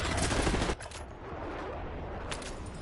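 Rapid automatic gunfire from a Call of Duty: Black Ops 7 match, a dense burst of shots at the start that drops to quieter battle noise with a few scattered reports afterward.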